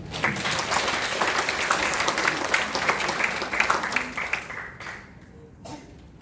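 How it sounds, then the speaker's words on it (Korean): Applause from attendees at a National Assembly prayer breakfast, a dense, sustained patter of many hands that fades out over the last second or so, leaving a few scattered claps and room quiet. "한번 박수 한번 해주시죠"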